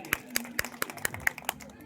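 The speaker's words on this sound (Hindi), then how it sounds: "एक बार बेटी के लिए जोरदार तालियां बजाइए" An audience at a stage event claps in a steady, even rhythm for a girl coming on stage, about eight sharp claps close together, moderately loud against a quiet background.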